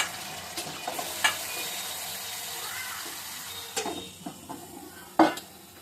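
Chicken pieces fry in a pan with a little water, giving a steady soft sizzling hiss with occasional utensil clinks and a sharper sputter near the end.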